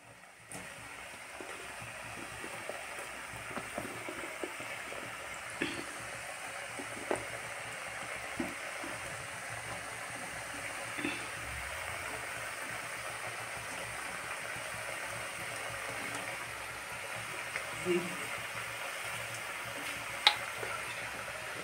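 Bengali fried tea-time snacks bubbling quietly in oil in a wok over low gas, a soft steady fry with scattered faint ticks and light clinks.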